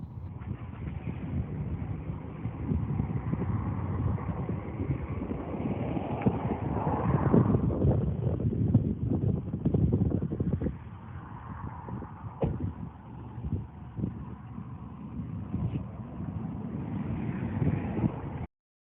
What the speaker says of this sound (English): I was hoping you could hear some of the audio of the wind there.